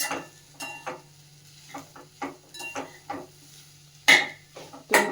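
Jaggery modak filling stirred in a pan, a rhythmic run of close scraping and clinking strokes against the metal, with two sharper knocks near the end and no speech.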